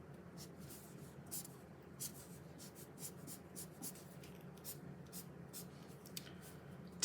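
Marker or chalk strokes on a board during a lecture on religion in the Roman world, with repeated short scratchy squeaks in an irregular rhythm over a low room hum and no speech.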